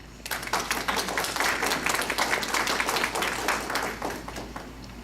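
Audience at a criminal-investigation lecture breaks into loud, dense applause welcoming a criminalistics expert, many hands clapping steadily for about four seconds before tapering off.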